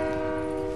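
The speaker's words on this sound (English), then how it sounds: "Hurry up, train." A train in the Fortnite video game sounds a brief, sustained horn-like tone, loud and even for under a second.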